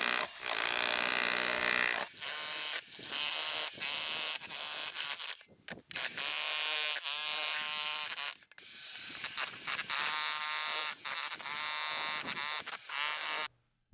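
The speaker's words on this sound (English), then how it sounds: "I decided to rent a big pneumatic hammer for the day" A loud, continuous pneumatic hammer breaking stony backyard soil rattles in long bursts, stopping briefly a few times before starting again, harsh and close.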